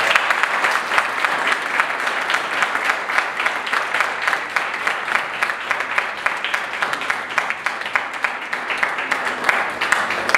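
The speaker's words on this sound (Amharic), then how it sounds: "በጭብጨባ ሞቅ ያለ ጭብጨባ።" An audience breaks into warm applause at a community stage event, dense rapid clapping sustained at an even level for about ten seconds with no speech over it.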